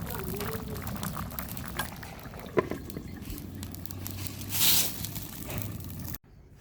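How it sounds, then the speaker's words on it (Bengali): A pot of fish and drumstick curry bubbles at a steady boil, a soft continuous simmering hiss close by with a few faint clinks and scrapes, then a brief louder burst of steam near the end. "তরকারিতে বলক উঠে গেছে, এখন মাছগুলো দিয়ে দিব।"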